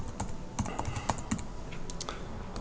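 Quick, light key clicks on a computer keyboard come in an irregular rapid run, close and fairly clear, with no talking.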